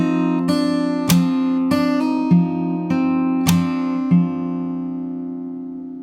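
Close acoustic guitar picked fingerstyle on a single chord in a song's pattern: a steady run of about eight plucked and slapped notes over a ringing open-string drone, fading at the end, no talking.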